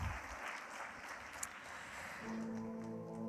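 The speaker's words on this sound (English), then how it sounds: "give another round of applause to Honorable Deputy Minister Mr. Eranga Viraratna for his kind words" Audience applause at the official launch of a digital marketing summit in Sri Lanka, a steady wash of clapping from a crowd lasting the whole stretch, with a low hum entering near the end.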